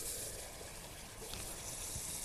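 Liquid oxygen poured into a glass test tube, a steady broadband hiss and gush of boiling, splashing cryogenic liquid running continuously and fairly quietly at close range.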